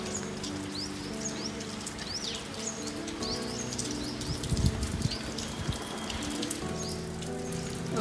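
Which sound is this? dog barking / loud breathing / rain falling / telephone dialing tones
rain falling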